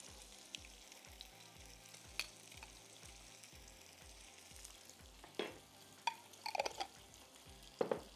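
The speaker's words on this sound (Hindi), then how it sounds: "थोड़ा सा हम लहसुन का पेस्ट डाल रहे हैं इसमें पहले।" Garlic paste sizzles and fries in a hot pan, a soft steady crackle with scattered sharper pops and stirring clatters, close and fairly quiet.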